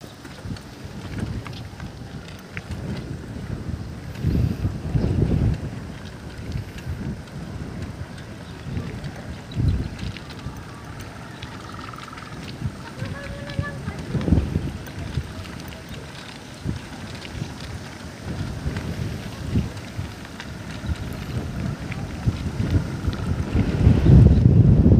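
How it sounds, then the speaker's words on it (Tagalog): Strong wind across an open road through rice fields buffets the microphone in low, rumbling gusts that rise and fall throughout, growing heavier near the end. "Lakas po yung hangin, ano, kasi halos sa open na lugar po itong"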